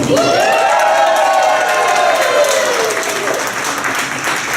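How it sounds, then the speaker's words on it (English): An audience at a magic show breaks into loud, sustained applause and cheering, a dense wash of clapping that stays strong throughout, with a voice talking over it. "You'll get a big thunderous round of applause."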